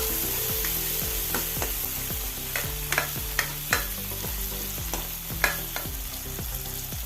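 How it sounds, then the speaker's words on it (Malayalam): Chopped tomato fries in a pan for a dal palak curry with a steady sizzle, while repeated stirring scrapes and taps of a utensil against the pan come through close and clear, with no talk. "ഇനി ഒരു തക്കാളി ചെറുതായി അരിഞ്ഞത് ചേർത്ത് കൊടുക്കാം"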